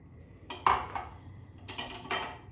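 A utensil scrapes and clinks against a pot while stirring rice in a little olive oil for Chinese fried rice, making a few brief, quiet metallic knocks spaced apart, with no talking.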